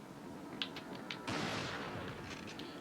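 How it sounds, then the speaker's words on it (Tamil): Shotgun gunfire in the Resident Evil 4 video game: a sharp blast followed by a sustained, fairly loud burst of noisy gunfire that tails off, with a couple of small clicks just before it and no talking. "ஷார்ட் கன் இட்டு போட்டு தள்ளிடுங்க."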